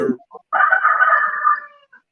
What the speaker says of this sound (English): God, that chicken.